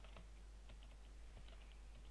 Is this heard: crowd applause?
no